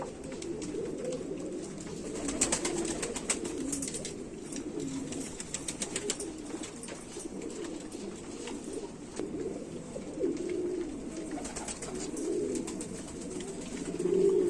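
A Rampuri pigeon, a white-faced hen, coos in low repeated murmurs that continue steadily through the whole stretch, close by and moderately loud, with soft rustling behind.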